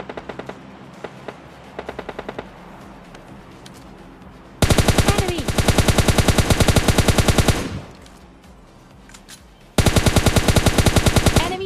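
Automatic weapon fire in PUBG Mobile Lite: faint distant single shots at first, then two long loud close-range rapid bursts with a quieter gap of steady background noise between them.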